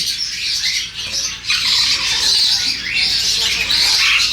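Many caged birds squawk loudly and continuously at a bird market in Makkah, a dense, shrill, overlapping chorus close at hand with a brief dip before it swells again.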